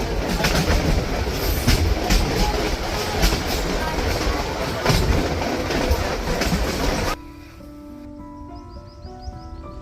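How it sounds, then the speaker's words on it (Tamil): Train running on rails near the Talala junction area in Gujarat, a loud, steady rumble with clickety-clack of wagons for about seven seconds, then dropping abruptly to a quieter hum with faint bird calls. "இப்போ நம்ம வந்து ட்ரெயின் கிளம்புறது ரெடி ஆகிருக்கு."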